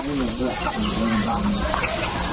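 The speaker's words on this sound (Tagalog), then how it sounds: "Ito yung kanyang mga alagang native na manok." Native gamefowl chickens cluck and murmur close by amid a busy outdoor background, with soft voices mixed in.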